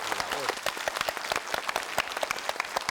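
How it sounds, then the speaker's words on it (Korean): Studio audience at a KBS trot music broadcast applauds steadily, a dense wash of many hands clapping with a few sharper claps standing out, loud and close, while a voice speaks briefly over it. "힘찬 박수 한번 부탁드리겠습니다."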